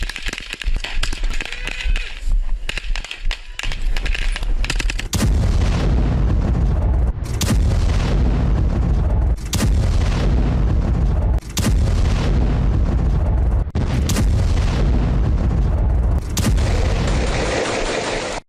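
Loud, dense battlefield din of heavy gunfire and explosions from Israeli strikes on Gaza, sustained booms and bursts with sharp cutoffs between segments, continuous and overwhelming throughout.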